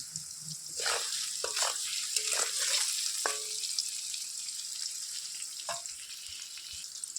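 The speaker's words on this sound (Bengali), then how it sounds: "পনিরগুলো ভাজা হয়ে গেছে।" Paneer pieces fry in hot oil in a home kitchen, a soft steady sizzle with a few sharper crackles and stirring clatters, fairly quiet and close, with no talk.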